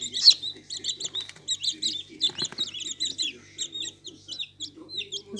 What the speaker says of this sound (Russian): Потом получаются вот такие вот цыплята.